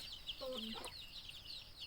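A few hens in a farm coop cluck quietly in the background, with a brief louder low call from a nearer bird partway through.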